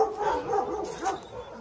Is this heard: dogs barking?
yes